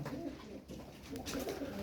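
Pigeons coo softly in a steady, low murmur, several birds overlapping close by with a faint rustle in the background.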